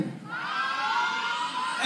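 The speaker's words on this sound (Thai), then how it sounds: "ร่วมเชียร์ด้วยนะครับ" An audience cheers and whoops at a results announcement for a freshman contest, a brief burst of crowd voices rising and falling, somewhat distant.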